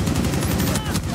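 In Rainbow Six Siege, a cluster charge detonates in a rapid, dense string of sharp explosive pops that fills the brief moment at close range.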